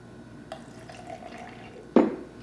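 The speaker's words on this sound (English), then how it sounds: "I'm going to add 100 grams of water" Water is poured from a container into a jar of sourdough starter, a faint soft trickle ending in a single brief splash and knock near the end, with no voices.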